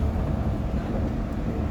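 Interior of a Yurikamome line train running from Daiba toward Shimbashi, a steady loud rumbling roar of wheels and motors throughout, no voices.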